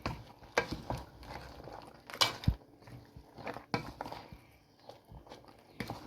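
Okra is stirred into a spinach marinade for Beninese gombo sauce, giving a series of soft wet scrapes and clicks with a few sharper knocks against the pot, close by and fairly quiet, with no talk.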